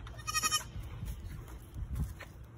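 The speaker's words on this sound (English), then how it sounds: "These are our goats, Cletus and Panda." Two pet goats bleat outdoors at home, a loud, close cluster of bleats early on followed by softer bleating and shuffling, with no talking.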